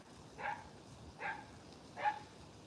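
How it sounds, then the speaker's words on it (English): A neighbor's dog gives three separate barks spaced evenly about a second apart, moderately distant and fairly faint over a quiet background. "That's the neighbor's dog."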